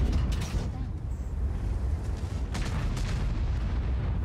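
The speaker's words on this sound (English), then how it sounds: "That's their airstrike." Enemy airstrike explosions in a multiplayer tank battle game, a continuous heavy rumble of blasts and distant booms with sharper bursts, under players talking.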